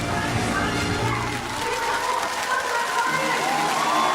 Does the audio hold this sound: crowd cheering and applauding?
yes